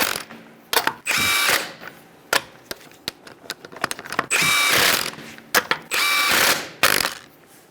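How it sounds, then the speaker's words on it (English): A ratchet wrench with a 21mm socket snugs down the lug nuts on a 2010–2013 Kia Soul wheel, heard as several close, loud bursts of rapid clicking separated by short pauses, with no talking. "Use a 21mm socket. You're going to snug these down in a star-like pattern."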